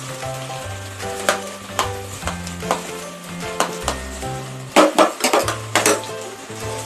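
Ginger garlic paste frying with onions in a pan for mutton curry, a continuous sizzle broken up by repeated clinks and scrapes of a stirring spoon against the metal, close and fairly loud, with no talking.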